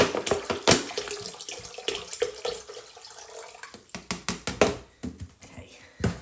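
Tap water poured into a container for natural dyeing, splashing and trickling unevenly with clattering bursts, close by, with quiet voices in the background.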